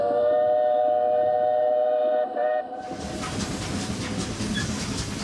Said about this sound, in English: an old steam locomotive from Texas